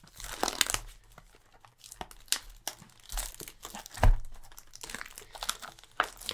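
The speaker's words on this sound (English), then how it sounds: "So let's rip into this box." Crinkling and tearing of Digimon card booster packaging comes in irregular bursts of rustle and rip, close and fairly quiet, with one sharper crack partway through.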